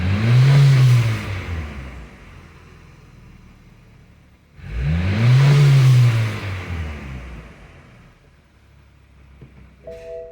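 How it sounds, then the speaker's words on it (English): A BMW X3 engine with a collapsing intake pipe revs up sharply twice from idle, each loud surge rising and falling before settling back to a steady idle, with a faint beep at the end. "So now we will do the same at idle rev up as we saw where the pipe was collapsing."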